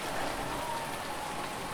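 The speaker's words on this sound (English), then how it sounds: "it is raining right now, so we probably can't harvest" Steady rain falls in a farming video game, a dense, even hiss of drops on surfaces that holds unbroken and fairly quiet throughout, with no voices.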